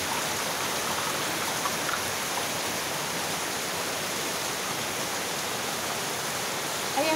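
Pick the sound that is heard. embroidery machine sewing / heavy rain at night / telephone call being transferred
heavy rain at night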